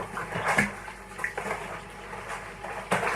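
Homemade apple and blackberry wine is stirred quickly in a barrel, giving soft intermittent liquid swishes and sloshes at close range with no voice.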